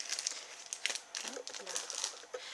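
Packaging from a contest prize parcel is opened to pull out a card, giving quiet, close crinkling and rustling of wrapping with a few sharper crackles.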